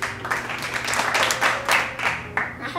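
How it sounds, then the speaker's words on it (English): Hands clapping along to a children's song, several uneven claps in loose rhythm while a voice sings over them. "Clap your hands"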